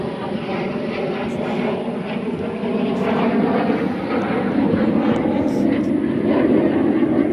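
Training aircraft drone overhead in a continuous, steadily swelling engine roar that stays fairly loud and broad throughout the outdoor scene.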